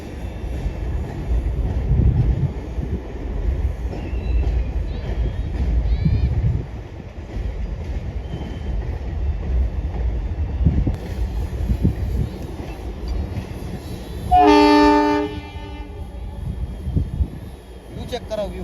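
A train passes with a steady, loud rumble and wind buffeting, and a clear horn blast sounds about three quarters of the way through before the rumble continues.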